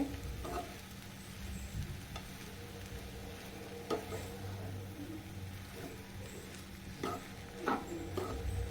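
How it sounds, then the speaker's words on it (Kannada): Pumpkin halwa is stirred in a pan with ghee, a soft steady sizzle broken by repeated scraping strokes of the spoon against the pan. "ತಿರುಗಿಸ್ತಾ ಇರಬೇಕು ಇದು ಕರಗುತ್ತೆ ತುಪ್ಪ ಇಲ್ಲ ಇದ್ರ ಜೊತೆ ಹೊಂದ್ಕೊಳ್ಳುತ್ತೆ"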